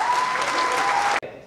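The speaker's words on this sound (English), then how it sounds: "So let's give a big round of applause for ShopUp." A brief, loud burst of audience applause at a business investment presentation, dense clapping with a faint tone running through it, cut off sharply after about a second.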